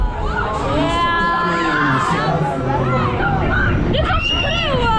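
Riders scream and shout together on the Afterburner fairground ride at the Kermis funfair in Amsterdam's Westerpark, with a dense, loud wash of high-pitched cries amid crowd noise.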